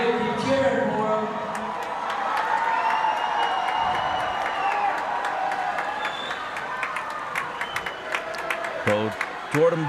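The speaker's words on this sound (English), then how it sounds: "keep cheering for him" A packed crowd at a 6A state championship swim meet cheers and roars continuously through the race while commentators talk over it, with some claps and a sharp burst near the end.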